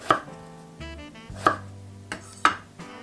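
Eggplant being cut into bite-size pieces with a knife on a board, about five crisp chops spaced roughly half a second to a second apart, close and clear with no talk.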